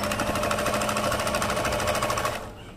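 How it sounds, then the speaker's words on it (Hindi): A sewing machine stitches the fabric of a small cloth purse, running in a fast, even mechanical rattle close by, then stopping abruptly near the end. "इस कपड़े को अच्छे से इस तरह अंदर को करके सिलाई लगा देनी है।"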